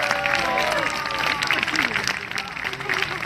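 An audience applauds and cheers for the winner of a sumo wrestling bout at the Morton Arboretum, with steady clapping and crowd noise throughout and voices talking over it.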